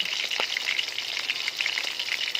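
Beef frying in a pan, eaten with sticky rice, with a steady close hiss and sizzle of fat and crackling pops that runs throughout, with no voices.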